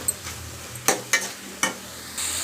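Mixed sprouts being stirred in a pan for a stir-fry give a low sizzle punctuated by several sharp scraping strokes of a spoon against the pan, close and fairly loud, without talking.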